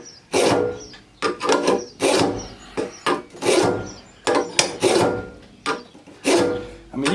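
A Greenworks lawn mower blade is sharpened with a Smith's blade sharpener. About a dozen close, raspy grinding strokes come in an uneven back-and-forth rhythm, each stroke distinct with short pauses between.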